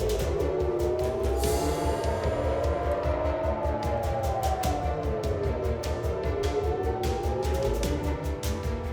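Air raid sirens wail across Israeli cities, rising and falling tones sweeping continuously over a dense rumbling background, loud and sustained throughout with no voices.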